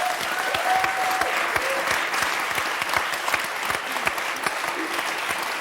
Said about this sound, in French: Je crois que vous pouvez l'applaudir chaleureusement.